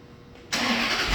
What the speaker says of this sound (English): The ignition will turn on and the car will start.